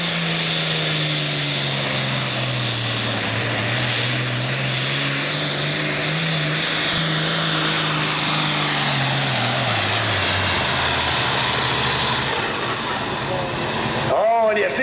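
A Ford tractor engine roars steadily and loudly through a 2003 Badger State Tractor Pullers super farm tractor pull on the Freeport track, its pitch wavering as the machine strains down the run, with an announcer talking over it.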